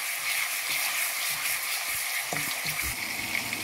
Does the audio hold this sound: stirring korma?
yes